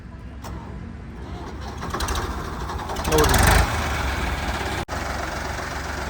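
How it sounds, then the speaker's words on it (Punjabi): A Farmtrac 45 tractor engine runs steadily with a low, rough rumble, revving up briefly partway through before settling back to a steady idle. "ਲੋ ਬਾਈ ਆਵਾਜ਼ ਚੈੱਕ ਕਰੋ ਟਰੈਕਟਰ ਦੀ ਪੂਰਾ ਕੈਂਟ ਟਰੈਕਟਰ ਹੈ"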